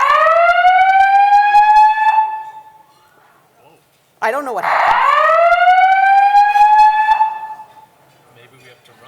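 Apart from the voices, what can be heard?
hotel fire alarm sounding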